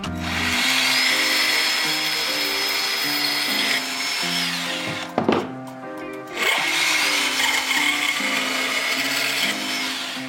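A power tool, likely a saw, cuts wood pieces for a bathroom sink cabinet, running loud and steady for several seconds. It briefly stops and restarts midway through the cut.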